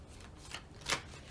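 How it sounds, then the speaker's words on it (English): Tarot deck being shuffled by hand, two quick papery riffles, the second sharper and louder, in a quiet room. "that was a nasty looking shuffle"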